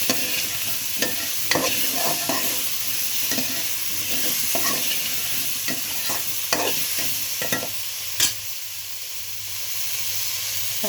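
Shrimp, onion, eggplant and green chili fry in a pan with a constant hissing sizzle, punctuated by sharp spatula clicks and scrapes as the mixture is stirred at an irregular pace.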